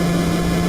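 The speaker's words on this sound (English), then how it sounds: "And then you hear this horrible engine droning noise" A steady, droning engine hum from the NES game Stealth ATF, a flat sustained tone with a continuous low rumble and no talking over it.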